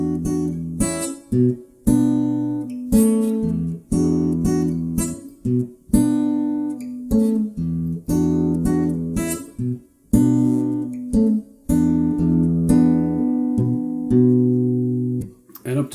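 Acoustic guitar picked slowly, single notes and small chord groupings with short pauses between phrases, close and clear with no voices.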